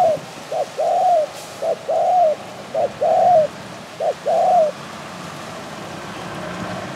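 A tethered decoy bird coos in a repeated pattern, four rounds of a short note followed by a longer throaty coo, close and clear over quiet background.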